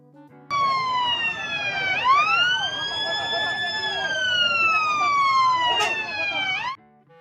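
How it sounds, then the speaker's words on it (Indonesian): A loud wailing fire truck siren rises and falls in long sweeping tones, close by, then cuts off abruptly after several seconds. "di sebelah sini ada mobil pemadam kebakaran"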